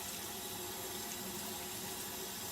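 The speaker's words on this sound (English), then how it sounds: "So I turn it upside down to rinse it off," Tap water runs steadily over sage sprigs held under a faucet, a continuous broadband hiss and splatter with no break, moderately close and fairly soft, with no voices.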